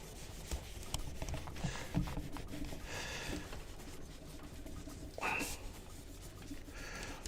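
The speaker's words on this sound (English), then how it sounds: "let's go ahead and just erase this" An eraser rubs back and forth across paper in quick scrubbing strokes, close but fairly quiet, with brief soft taps between passes.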